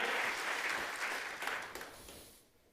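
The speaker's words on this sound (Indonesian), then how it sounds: "Kita beri tepuk tangan untuk kebenaran ini." A church congregation applauds during a sermon, a dense wash of hand claps that holds steady and then fades out toward the end.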